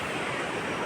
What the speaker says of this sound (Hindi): पानी का जो साउंड है